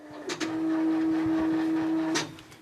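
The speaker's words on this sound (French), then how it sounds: "La grosse imprimante a besoin de temps avant de reproduire la couverture d'un zine." An old, large printer runs through one cycle while printing a zine cover, opening with a clunk, then a steady mechanical hum with a tonal whine, closing with another clatter.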